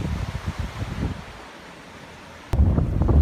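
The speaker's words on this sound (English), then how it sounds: "it's just as windy here" Gusty storm-force wind buffets the microphone at a wild campsite in loud rumbling bursts, easing briefly before surging back strongly.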